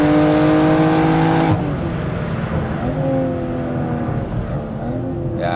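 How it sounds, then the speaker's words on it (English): A tuned BMW M440i Stage 2 accelerates hard from standstill toward 100 km/h, its engine roaring loud and close. The pitch climbs, then drops sharply at a gear change and climbs again. "I'll just do a little 0 to 100 run."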